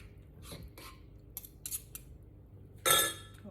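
Fork and spoon clink in a pot while seafood sauce with crab meat is stirred, a few light scraping taps followed by one louder clatter near the end, with no voices.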